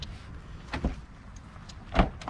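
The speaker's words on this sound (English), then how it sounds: "But door locks actually do work." Power door lock actuators on an old junked car clunking, two short mechanical thunks about a second apart, close and dry with no voices.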